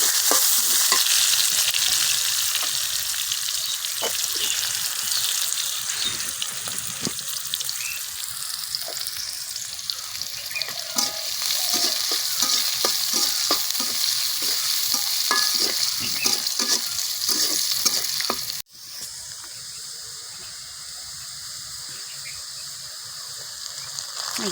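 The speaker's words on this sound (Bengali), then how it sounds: "পেঁয়াজ, মরিচ, রসুন সব এখানে কাটা আছে। এই যে আমি এখানে দিয়ে দিই।" Chopped onion, chili and garlic sizzle loudly in hot oil while a utensil scrapes and stirs them around the pan, a steady frying hiss with repeated clacks, easing slightly near the end.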